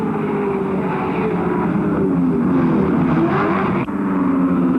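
Race cars roaring up Mountain Straight at the 1986 Bathurst 1000, a loud continuous engine drone with a steady rising pitch and dense mechanical noise, briefly dipping near the end.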